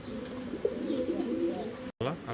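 A pair of fancy pigeons, a yellow male and a red female, coo softly and continuously in a low, throaty murmur close by, with a brief cut near the end.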